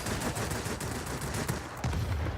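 Rapid sustained bursts of aircraft gunfire from a Yak-3 fighter in the World of Warplanes game, dense and continuous with a heavy low rumble, fairly loud throughout with a brief lull before resuming.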